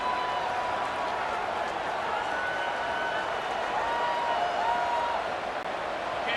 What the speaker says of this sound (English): Guns up, and so is the noise. The crowd electric, trying to help Tech on this 3rd down.